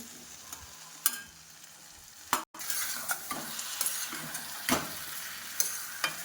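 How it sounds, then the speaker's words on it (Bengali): Cabbage sautéing in a pan with green chili and ginger paste, a steady soft sizzle broken by repeated scraping stirs and occasional sharp clacks, close and moderate, no talk. "এটাকে ভালো করে কষিয়ে নেব"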